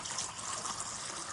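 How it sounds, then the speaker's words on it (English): Water poured into a pot for brewing coffee on a canister stove, a steady close splashing, filling stream that runs without pause and with no talk. "put some more in there just to make sure that's 2 cups of water"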